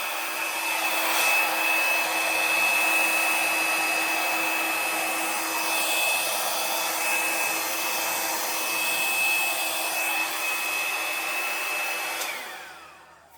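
A hair dryer blows across an acrylic paint pour with a loud, steady whine and rushing airflow, running continuously close by before switching off and winding down at the end.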